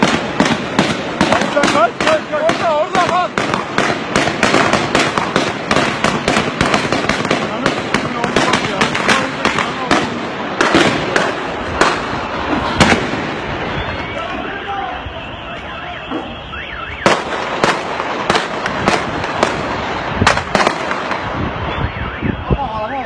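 Gunshots crack repeatedly in a street shootout after an explosion in Izmir, sharp loud bursts in irregular rapid clusters with brief lulls, while people shout and talk excitedly throughout.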